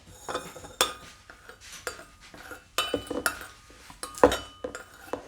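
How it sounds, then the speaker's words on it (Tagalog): Honey and lemon stirred together for herbal tea, heard as a spoon clinking and scraping against a cup in a quick, uneven run of close, bright knocks. "I-mix ko muna to siya hanggang ma-dissolve yung dalawang ingredients"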